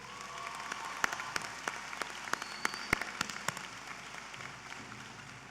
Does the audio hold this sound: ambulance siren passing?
no